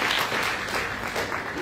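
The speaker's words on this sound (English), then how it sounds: "Let me clap for that one." An audience at a formal event with Sierra Leone's First Lady claps steadily, a dense, fairly loud wash of applause lasting the whole moment.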